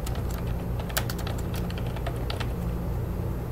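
A name is typed on a computer keyboard while joining a Zoom meeting in a browser on Ubuntu Linux: a quick run of close, crisp keystrokes over a constant hum, with the clicks thinning out toward the end.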